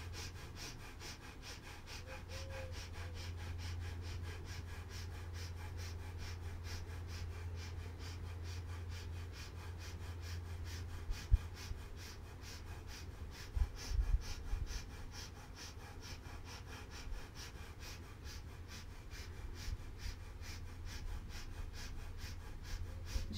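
Rapid, rhythmic breath of fire during a kundalini yoga exercise, with quick, even puffs through the nose repeating steadily for over twenty seconds, close and fairly soft, with a low hum underneath.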